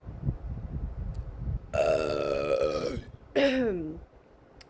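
A man lets out two loud, drawn-out burps after downing a beer, a long throaty belch followed by a shorter one, close up with quiet pauses around them.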